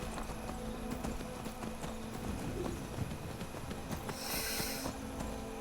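Horse hooves clip-clop steadily in Skyrim, a fairly loud, even rhythm of hoofbeats close by, with a brief bright burst of sound near the end.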